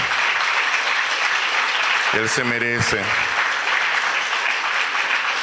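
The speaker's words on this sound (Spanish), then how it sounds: "Denle un aplauso al Señor por esa sublime gracia" Sustained applause from a large church congregation fills the room, with a brief burst of sung or spoken voices rising over it midway.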